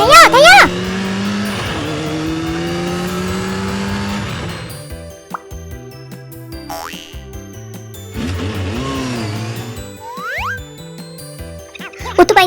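A cartoon motorcycle engine revs in rising and falling whines, with playful boing and pop effects and bright jingles over a bouncy music bed, loud and busy throughout.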